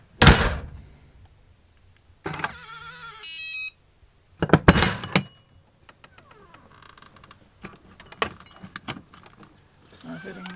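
A motorhome door fitted with an RVLock keyless keypad and key fob lock is pulled and rattled after locking, giving sharp clattering thunks and jangles, a short run of electronic beeps, then scattered lighter knocks close by.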